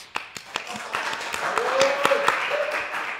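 Canned applause on a Spanish-language podcast, treated as a joke about clapping robots, comes as a light patter of claps that swells slightly, with a voice talking and laughing over it.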